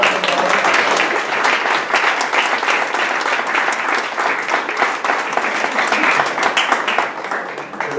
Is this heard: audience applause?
yes